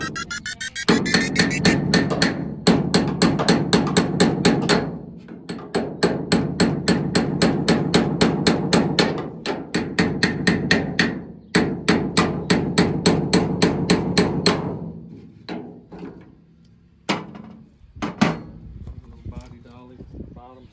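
Hammers pound out a corner dent in the sheet-metal body of an OBS Ford pickup truck in rapid, continuous ringing bursts. The blows are close and loud, then slow to a few scattered hits, and a voice is heard briefly.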